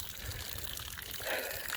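Water trickles and gushes out of plastic jugs blown open by 444 Marlin rounds outdoors, a faint, steady pouring that swells near the end.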